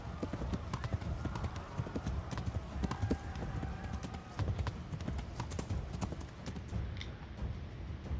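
A horse clip-clops steadily in Kingdom Come: Deliverance, hooves striking in a quick continuous rhythm, close and fairly loud throughout.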